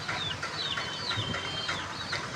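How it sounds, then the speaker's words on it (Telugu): Hen with her chicks clucking in a yard, a run of short, close, repeated clucks and soft peeping calls over light background noise. "కోడి చూడండి"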